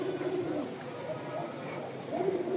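Pigeon cooing in a pigeon loft, soft low coos repeating a few times over a constant background hiss, moderately close.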